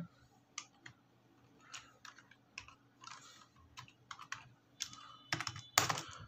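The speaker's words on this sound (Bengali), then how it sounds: "আমি এখানে পাসওয়ার্ডটা দিচ্ছি" A password is typed on a computer keyboard: soft irregular key clicks in short bursts, ending with a couple of louder, sharper keystrokes, close and quiet with no talking.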